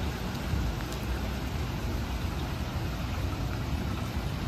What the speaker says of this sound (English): Starting to get a little busy in there as the rain continues to fall on my phone.